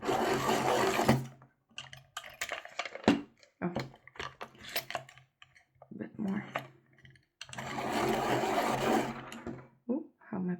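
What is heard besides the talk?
pastel pencil being sharpened in a pastel sharpener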